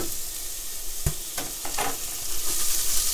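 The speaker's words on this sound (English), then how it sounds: "If you want to bring the flavour out of your onions, you're going to saute them" Sliced onions sautéing in a dash of oil in a pan, a continuous close sizzle broken by a few sharp stirring clacks and scrapes, no talking.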